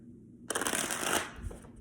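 Tarot cards being shuffled by hand, a quick riffle of flapping crisp card edges starting suddenly after a brief silence and lasting under a second, close, then settling with a soft tap.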